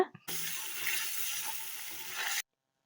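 Water poured into a kadai of tandoori kebab while cooking, a steady splashing hiss for about two seconds that stops abruptly, loud and close, with no talking.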